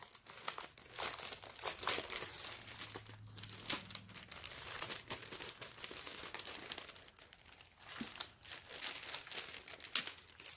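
A mailed package of ephemera and papers is torn open and unpacked, with continuous close crinkling and crumpling of paper and plastic wrapping in uneven rustling bursts, no voices.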